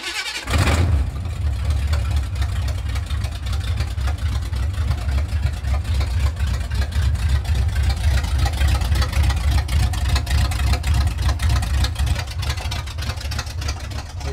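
A freshly fired-up 1975 Chevrolet K10 truck, still without an exhaust, idles loudly and roughly nearby, its deep, steady, uneven rumble running throughout after a brief starting moment.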